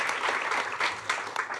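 An audience at a university science awards ceremony breaks into brief applause, a burst of clapping lasting under two seconds with a few uneven swells and no speech over it.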